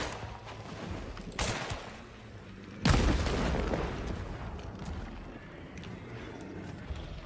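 Gunshots in Hunt: Showdown: a muffled distant shot, then a louder booming report with a lingering rumble over a low ambient background.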